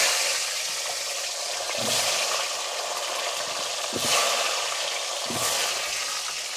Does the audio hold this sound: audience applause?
no